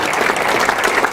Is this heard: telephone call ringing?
no